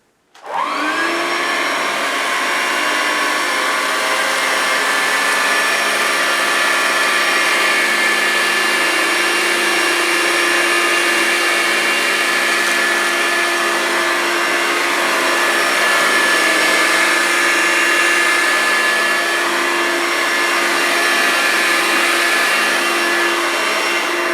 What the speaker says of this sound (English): I'll clear the rest of this up and then I'll sum up this Vax Life upright vacuum